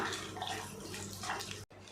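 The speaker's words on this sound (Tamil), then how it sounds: "தண்ணி சேர்த்துட்டு நல்லா கலந்து விட்டுடலாம்" Water pours steadily into a cooking pan in a broad splashing rush for about two seconds, then cuts off abruptly.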